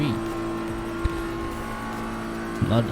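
A BMW M4 GT3 race car in a racing video game hums along at a steady engine pitch, with brief gear-change blips and another car passing, while a commentator talks over it.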